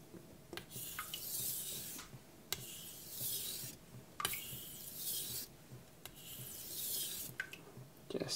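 A knife drawn across a wet Naniwa Pro 1k whetstone in a steady series of long rasping strokes, each followed by a brief pause and light clicks, close and fairly quiet.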